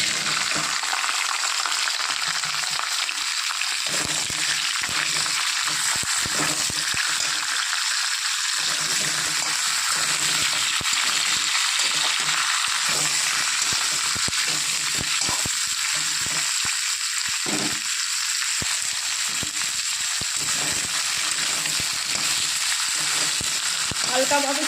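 Vegetables fry in hot oil with nigella seeds for a parshe fish chorchori, a loud, steady, dense sizzle running unbroken throughout with occasional stirring movement.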